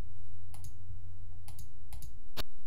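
Skipping record on a Victrola gramophone in the video game Maniac Mansion, a steady low hum broken by repeated sharp clicks in pairs at roughly regular intervals, faint and alone.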